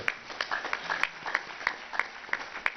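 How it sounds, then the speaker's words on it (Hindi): Scattered claps ring out at a yoga and Ayurveda gathering in Haridwar, a thin, fairly faint run of individual hand claps with gaps between them, heard with no talk over them. "जोरदार तालियां भाई इसके लिए।"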